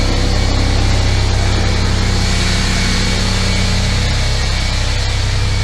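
A shop air compressor, not a quiet model, hums loudly and continuously from close by, a dense motor drone with a low throb that barely varies. No one speaks over it.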